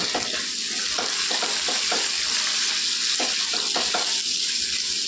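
Cabbage and mixed vegetables for veg fried rice stir-frying in a pan, a steady loud sizzle with repeated scraping stirs of the spatula throughout, no voices.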